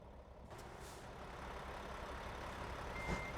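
A semi truck in American Truck Simulator idles and rumbles steadily while reversing, with a brief hiss of air and a faint beep near the end, and no voices.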